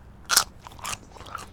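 Fresh, thick pea pods snapped off the plant in a home garden: a sharp, close crisp crack followed by a couple of lighter snapping crunches, with no talking.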